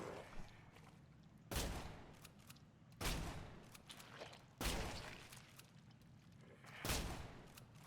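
Four loud shotgun blasts from the horror video game Nightmare of Decay, spaced about 1.5 seconds apart, each a sharp booming crack with a short rumbling tail, alone with no talk.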